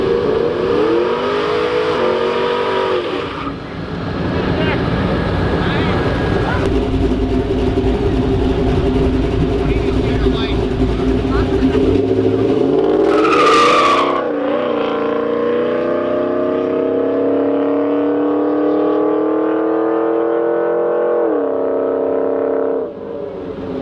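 A Trans Am roars down an airport runway drag strip, a loud sustained engine drone rising in pitch through the gears, then easing off with a falling whine near the end, no voices.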